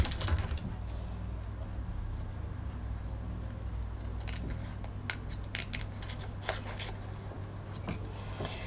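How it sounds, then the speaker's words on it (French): Curved pliers-type scissors snipping through material, a series of close, crisp cuts, some in quick bursts, over a steady low hum with no talking. "Alors là, je me sers de ciseaux. On appelle ça des ciseaux pinces."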